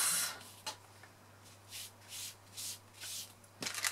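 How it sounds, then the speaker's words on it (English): Soft, dry rubbing strokes from an embossing buddy wiped across a crafting surface, repeated in short quiet bursts with brief pauses between them, no voices. "give it a wipe"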